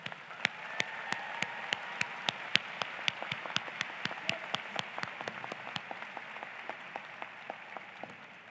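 An audience at a university convocation ceremony applauds the faculty, a steady wash of many hands clapping at moderate distance with crisp individual claps popping out, slowly thinning toward the end.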